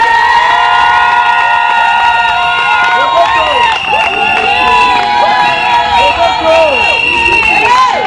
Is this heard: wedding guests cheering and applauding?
yes